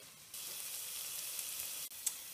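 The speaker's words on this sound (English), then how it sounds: "we will put in our lemon juice and our lemon zest from a whole lemon. And just give this a stir" Spaghetti squash stirred in a hot pan with fresh lemon juice and zest from a whole lemon gives a steady, even sizzle that holds alone, with a brief break near the end.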